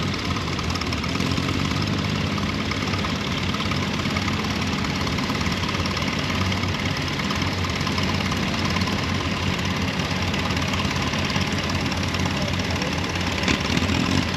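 A Ford tractor at a Larned, Kansas show runs steadily with a dense, knocking low rumble, close and loud, holding an unchanging idle throughout with no voices.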